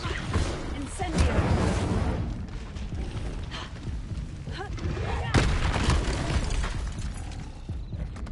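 Spells cast in Hogwarts Legacy, including the Incendio fire spell: whooshing bursts and booming magical blasts ring out repeatedly over game music, loud and close, while a voice speaks over them.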